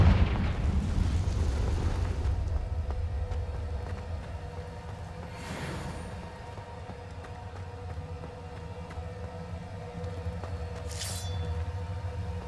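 A Confringo fire spell from the video game Hogwarts Legacy bursts with a loud rumbling blast at the start, then settles into a low sustained roar with a couple of brief bright crackles later on.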